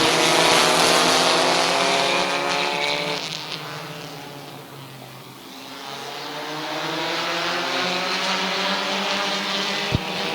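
A pack of trophy stock cars roars off at the start of an eight-lap dirt track heat race at Midvale Speedway, a loud, sustained multi-engine drone that dips briefly mid-way and then swells again as they accelerate.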